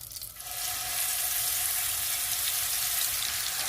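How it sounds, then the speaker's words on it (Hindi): Ginger garlic paste hits hot oil in a pan for a beef curry, and the loud, close frying sizzle quickly swells and holds steady throughout, with no talking. "अब इसमें हम अदरक और लहसुन का पेस्ट डाल देंगे"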